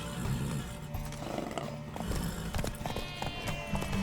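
Rapid hoofbeats of a galloping horse pound steadily in The Witcher 3: Wild Hunt, with a brief whinny and dense background activity throughout.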